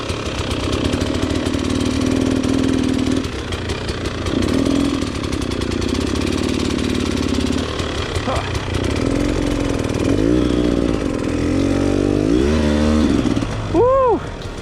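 A 2016 KTM 300 EXC dirt bike ridden off-road, its loud nearby engine buzzing and revving in surges and dips, with sharp throttle blips toward the end and a voice speaking over it at moments.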